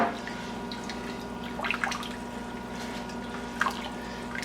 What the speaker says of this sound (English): I'm going to add the water, which wasn't listed in the list of ingredients that we showed you, but it's 6 cups of water.